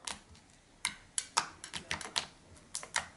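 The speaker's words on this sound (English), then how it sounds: "I call the clicking sound the suck" Slime being mixed by hand, giving a run of sharp, irregular clicking suction pops up close, about a dozen snaps over a few seconds, with no talk.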